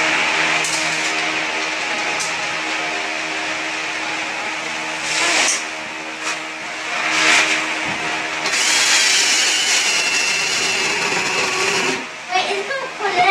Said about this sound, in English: just drill another hole